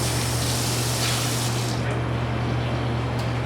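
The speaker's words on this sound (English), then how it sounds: "You gotta rinse this out." Water gushes loudly and steadily while a Bunn coffee maker thermos is rinsed out, a dense close splashing rush with a steady low hum underneath, easing slightly toward the end, with no talking.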